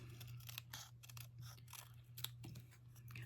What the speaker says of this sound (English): you're just going to cut all the way around your mug